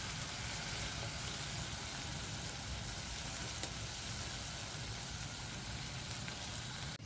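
Spiced masala for home-style Bengali chicken kosa sizzling steadily in hot oil, a dense, even crackle and hiss close by that runs unbroken throughout, with no voices.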